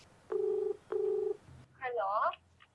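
Phone keypad dialing tones during a prank call, two evenly spaced beeps followed by a brief pause and a shorter warbling tone, clear and close.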